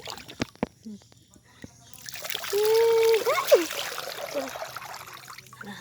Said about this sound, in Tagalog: Me nagaihi ang kanding.